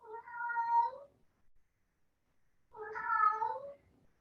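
A pet cat meows twice during a work meeting, two drawn-out, clear calls about two seconds apart, close by with no talk over them.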